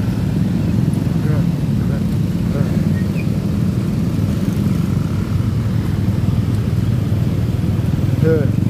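Steady loud engine and wind drone of a Honda Vario 125 scooter being ridden on a road, continuous throughout with voices talking over it.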